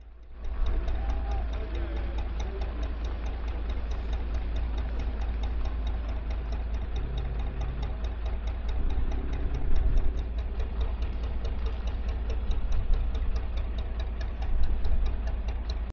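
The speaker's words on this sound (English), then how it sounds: "even above the sound of the engine" A narrowboat engine runs with a steady, low drone throughout, constant and fairly loud, with faint background voices occasionally rising above it.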